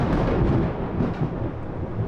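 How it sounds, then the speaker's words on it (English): Thunder from a nearby thunderstorm during heavy rain in Nicaragua, a loud, close, broad low rumble rolling continuously for a couple of seconds with no voices. "Just had a really big flash of lightning from this thunderstorm."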